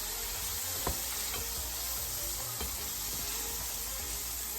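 Chili paneer fries and gets stirred in a pan with a steady broadband sizzle and a few faint spoon knocks. No voices are present.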